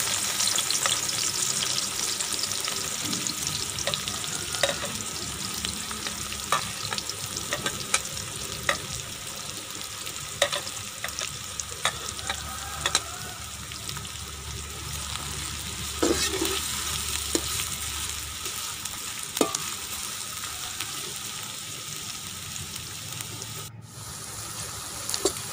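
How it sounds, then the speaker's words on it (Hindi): Onions frying in hot ghee, having just been added to the pan after okra was fried, hiss with a steady, dense sizzle that runs throughout, broken by soft stirring scrapes and a few louder pops. "अब इसी घी के अंदर प्याज डाल देंगे।"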